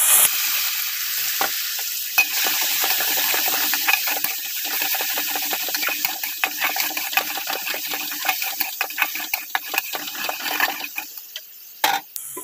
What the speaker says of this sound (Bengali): এবারে কালো জিরা ফোড়ন দিলাম, দিয়ে এবারে মশলাটা ঢেলে দেবো।